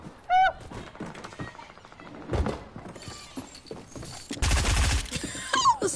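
Pistol gunfire in a creative-mode shooter video game, several sharp shots and thuds scattered among other game noises, with a dense, loud burst of rapid fire near the end.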